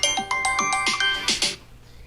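A mobile phone rings with a repeating bright chime melody, several quick tonal notes in a row, clear and fairly close, with no talking over it.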